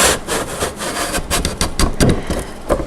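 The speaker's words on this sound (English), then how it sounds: "I'm going to put this right in the 2 grooves here and slide it down into place." A wooden bottom panel slides down the grooves of a white rose doll cradle, giving a close, steady scraping rub with several louder knocks and scuffs along the way.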